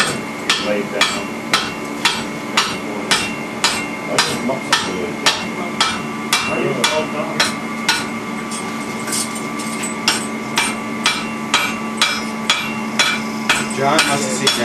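Steady hammer blows ring out in an even rhythm, roughly one to two strikes per second, sharp and close, with a faint engine hum beneath and no talk.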